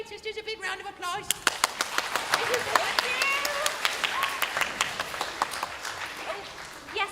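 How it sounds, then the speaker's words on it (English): Applause from an audience at a Little Mermaid stage show, starting as a few scattered claps and swelling into a steady crowd clapping with some cheering voices, moderately near. "Let's give our mermaid sisters a big round of applause."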